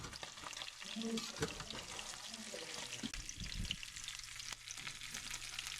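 Mustard seeds, urad dal, chana dal, dried red chillies and curry leaves fry in hot oil with a faint, steady sizzle and scattered popping crackles, close by, with some stirring and a brief murmur of voice.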